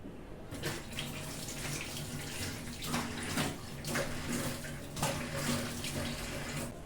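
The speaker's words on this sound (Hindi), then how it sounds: "गाइस, अब ये उचित समय है कि हम चेहरा धो ले, तो हम ऐसे थोड़ा थोड़ा मसाज करते हुए फिर धो लेते हैं।" Water running from a tap into a sink while someone washes their face after a scrub, a steady close splashing with irregular bursts as hands rinse.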